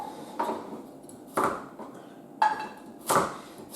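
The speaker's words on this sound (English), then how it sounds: "Roughly chopping carrots." A knife roughly chopping unpeeled carrots on a board gives four sharp, evenly spaced chops, close and fairly loud, with quiet room noise between them and no talk.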